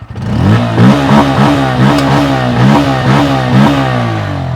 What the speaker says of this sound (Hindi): आइडियल कंडीशन पर अब आप इसका इंजन साउंड सुनो, एग्जॉस्ट नोट सुनो।